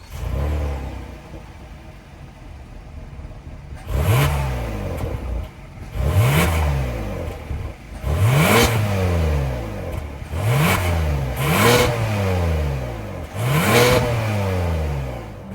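A 2023 Hyundai Palisade Limited's 3.8-liter V6 idles quietly, then is revved five times in sharp bursts, each climbing and falling back to a low idle, loud and close with no talking.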